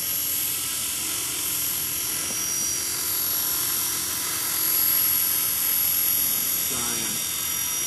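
Art Tech Falcon 3D electric RC helicopter coming in to land, a steady high-pitched motor and rotor whine running throughout, slightly rising and falling as it descends, with no talk heard.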